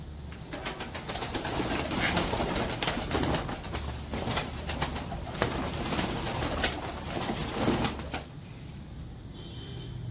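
Zard Amritsari pigeons coo nearby amid a steady wash of rustling and occasional wing flutters, with the cooing fairly soft under the background noise.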